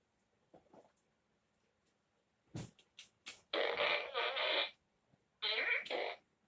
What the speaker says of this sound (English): You get the fart gun.